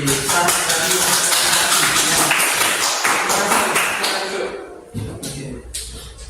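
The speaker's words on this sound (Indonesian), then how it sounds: "Beri tepuk tangan untuk Lady" A classroom of students claps for a classmate, a burst of dense clapping that thins out and fades near the end, leaving a few scattered claps.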